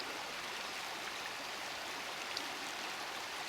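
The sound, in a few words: river flowing over gravel bank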